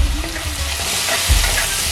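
Curry leaves and onions fry in oil for a jackfruit seed curry while a spoon stirs them. A steady sizzle runs throughout, broken by scraping stirs and a heavier clunk near the end.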